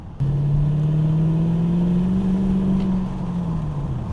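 A 22-year-old Lexus V8 car engine pulls at full throttle, though it seems to lack power, with a loud, steady drone that climbs slightly in pitch and then eases toward the end. No one speaks.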